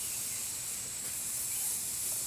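Steady, close hissing of a small homemade water-bottle alcohol stove flame with water boiling over it, constant and unbroken.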